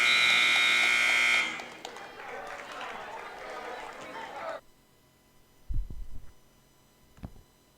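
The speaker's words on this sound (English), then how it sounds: "And the buzzer will sound." A loud buzzer blares at the end of a college wrestling period, a steady tone lasting about a second before cutting off. Crowd noise and commentary follow, with a few sharp thumps near the end.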